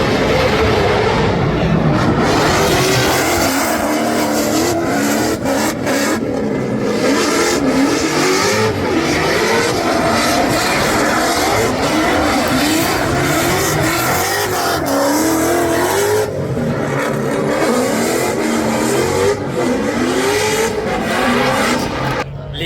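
Drift cars roar and rev continuously at a Formula Drift competition, loud engine and tire noise filling the whole stretch with little pause.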